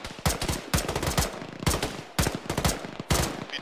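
Rapid bursts of automatic gunfire in a military squad video game, several sharp volleys separated by brief pauses, loud and close with no voices.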